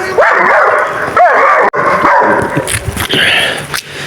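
A large dog yips, whines and barks excitedly up close, loud and irregular, with some shuffling noise.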